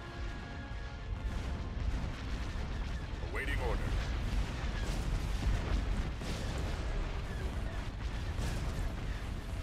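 Starship weapons fire in battle in Star Wars: Empire at War, a steady dense barrage of blasts and booms that runs the whole time, with commanders' voices heard now and then over the noise.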